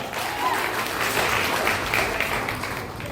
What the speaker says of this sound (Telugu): క్లాప్స్ గట్టిగా